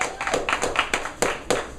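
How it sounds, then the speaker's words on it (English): An open mic audience at a coffee shop claps in a brisk, uneven burst of many hands. The applause is close and fairly loud, with no talking over it. "Clap if you sit next to someone beautiful, ladies and gentlemen."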